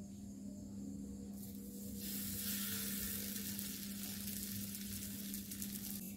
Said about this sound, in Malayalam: പാൻ ചൂടായിട്ടുണ്ട്. ഞാൻ അതിലേക്ക് ഇട്ട് കൊടുക്കുകയാണ്.